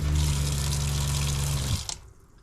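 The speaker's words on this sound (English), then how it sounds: "So I'll dump the hot water from the percolator." Hot water poured out of a percolator into a basin, a steady close splashing rush that runs for nearly two seconds and then stops abruptly, leaving near silence.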